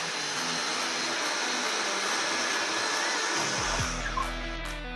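Plunge saw making a side cut through a black concrete-look TABLIPANEL panel with matte pearl finish, a steady loud whining motor with a dense cutting hiss throughout, winding down near the end.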